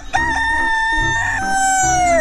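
A loud rooster crow, close and clear, one long cock-a-doodle-doo stretching out with a falling tail.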